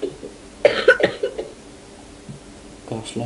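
A person coughs several times in a quick burst near the start, with a softer cough or throat sound near the end, amid quiet game-session background noise and faint voices.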